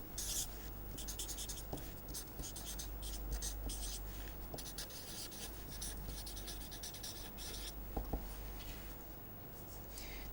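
A pen writing steadily on a surface while a filter's magnitude response is sketched during a lecture, with continuous close scratchy strokes, short pauses and a few light taps, over a faint low hum.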